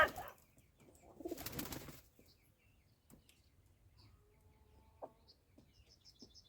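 A few quiet pigeon coos and soft throaty calls near a loft, with a short burst of wing flutter or rustling early on and faint chirps from other birds in the background.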